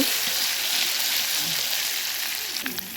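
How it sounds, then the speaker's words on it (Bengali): Ginger and chili sizzle and crackle steadily in a hot pan, close by, with faint background voices. "এরপর ভালোভাবে এটাকে একটু ভেজে নেব"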